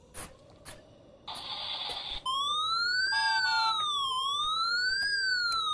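Siren of a fire engine or ambulance in the indie horror game Frosty Nights, a loud wailing tone rising and falling steadily for several seconds, preceded by short beeps and a buzzing tone.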